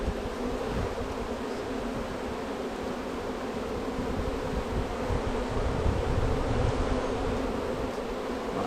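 Honey bees from a log hive being removed hum in a dense, steady swarm drone that fills the whole stretch, close and continuous, with no voices over it.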